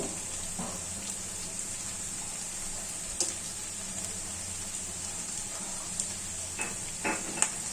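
Coarsely chopped onion sizzles as it joins a pan of frying chira polao, a steady low hiss with a few soft stirring scrapes and clinks near the end.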